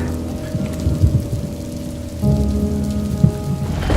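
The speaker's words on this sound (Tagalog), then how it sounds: "Gabi sa ulan" Steady heavy rain pours down at night, a dense continuous hiss with occasional louder splashes, no voices.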